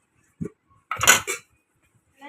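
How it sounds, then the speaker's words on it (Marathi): Metal idli steamer plates being taken out while making Kokan-style shirvale rice noodles, a few sharp clinks and clatters of metal on metal, with a louder rattling clatter in the middle, in a quiet kitchen. "आधी आपल्याला इडलीच्या प्लेट्सला सगळ्या काढून घ्यायच्यात"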